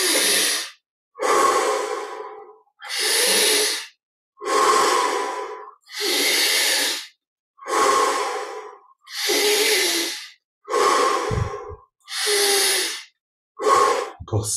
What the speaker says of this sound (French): Encore 5 respirations pour prendre de l'élan.